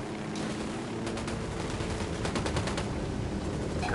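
Rapid bursts of automatic gunfire and single shots in the Ghost Recon video game, loud and dense over a constant rumbling game background, with crackling volleys clustered through the middle.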